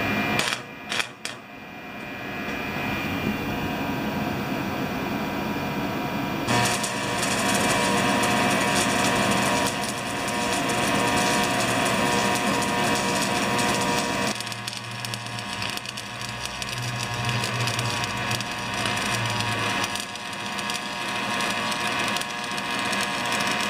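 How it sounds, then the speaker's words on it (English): Stick welding on a small compressor retrofit with warmed-up rods: a steady, loud crackling buzz that holds for about twenty seconds, with a brief sharp start and a shift in tone partway through. "Now what I do is I always warm up my rods first before I weld."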